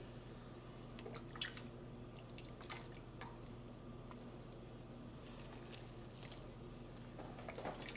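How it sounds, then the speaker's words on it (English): Cinnamon syrup poured and strained in a home kitchen, heard as faint, soft drips and wet splashes spread across a quiet background, with no talking. "As you pour it, you can strain it however you want."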